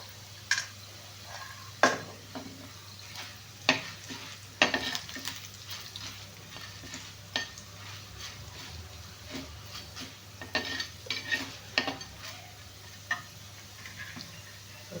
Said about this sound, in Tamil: இப்போ நம்ம ஜீரகமும் வரமிளகாயும் போட்டுக்கலாம்.